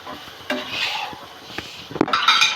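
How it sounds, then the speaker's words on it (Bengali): Spices frying in hot oil for a fish and eggplant curry, stirred in the pan with a utensil: a soft continuous sizzle with scraping and clinking strokes, ending in a brighter burst of sizzling, close and with no talk. "এই যে এইভাবে তেলে ভেজে নিচ্ছে সব মশলাগুলো দিয়ে"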